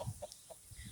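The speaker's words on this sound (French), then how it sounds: "ici nous avons un coq marron" A brown rooster in a backyard flock gives soft, quick clucks, several short low calls within a second, faint and somewhat distant, with no voices.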